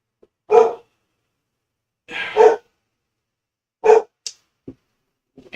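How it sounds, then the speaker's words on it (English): A dog barks three times, close and loud, with gaps of about one and a half seconds between barks, followed by a few faint clicks and short noises in an otherwise quiet room. "And now my dog's getting a little rowdy"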